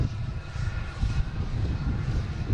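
JetBlue Airbus A321neo bound for LAX at Boston Logan airport, with a steady low engine rumble that rises and falls slightly, fairly loud and continuous with no talk.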